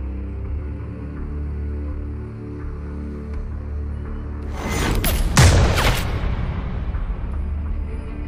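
Gunfire in an action film shootout: after a quiet, low ambient stretch, several sharp, loud cracks and booms burst out close together near the middle, followed by a rumbling tail.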